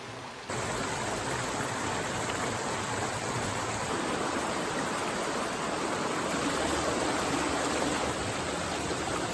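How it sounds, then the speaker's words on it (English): Water in a big creek rushes and flows upstream, a loud, steady broadband roar that starts abruptly and continues without pause. "If we follow the big creek upstream a distance"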